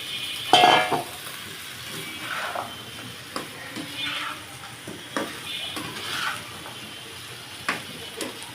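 Bilimbi fruits cook in a pan for pickle, a low sizzle under repeated stirring scrapes and utensil knocks against the pan, fairly close.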